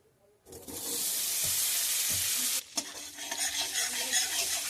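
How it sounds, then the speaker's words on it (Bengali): Butter dropped into a hot kadai, bursting into a loud hissing sizzle that holds for about two seconds before stirring breaks it into a softer, crackling fry with a few utensil clinks. "কড়া গরম হয়ে গেছে, দিয়ে দেবো বাটার।"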